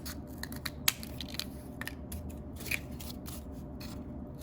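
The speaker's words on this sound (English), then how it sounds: "I'm going to actually cut 4 pieces of cardboard right now. I'm gonna cut this in half." Scissors cutting through cardboard to halve a piece, heard as faint, sparse crisp snips and scrapes at irregular intervals, with two sharper cuts standing out against a low steady room hum.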